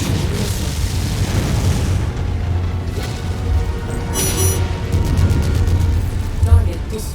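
Missile explosions and booming impacts in the mech combat game MechWarrior 5, rumbling low thuds layered with crackling bursts and a sharp electronic alert, steady and fairly loud throughout.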